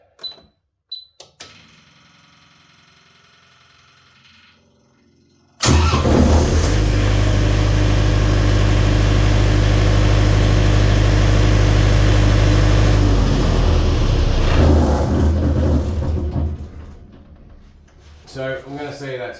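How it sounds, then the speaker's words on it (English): A Yanmar diesel generator set cranks and fires, then runs at a steady loud drone for about ten seconds before being shut down, with some quieter clicks and handling sounds before it starts. "Start her up, and if she fires up, then we'll say that's good."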